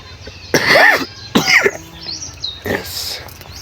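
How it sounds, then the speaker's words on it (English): A few short coughs, clearly heard outdoors in a garden by a tree-lined boundary, with faint bird chirps in the background. "a little cough."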